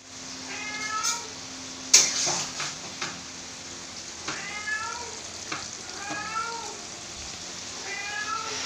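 A cat meows repeatedly in short, pitched cries while being fed in a home kitchen, spaced every second or so over a steady sizzle of frying fish and occasional knocks.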